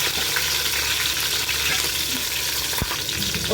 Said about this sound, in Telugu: గ్రీన్ చిల్లీస్ బాగా వేయించుకోవాలండి